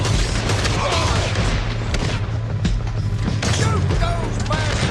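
Western shootout in Red Dead Redemption II, a town gunfight: continuous scattered gunshots and heavy booms over a low rumble, with voices shouting throughout.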